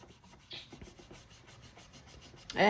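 A pencil-shaded drawing is blended by rubbing across paper, a soft close continuous scratchy rub with faint rhythmic strokes, ending in a brief louder swipe.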